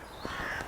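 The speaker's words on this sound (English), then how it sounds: "Morning, Mr. Crow" A single crow caws once, a short harsh call from nearby outdoors over faint ambient background.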